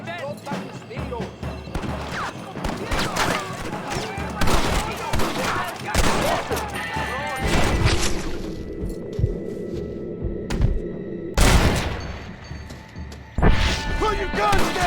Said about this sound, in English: ¡Escuchen cómo explotan mis tiros!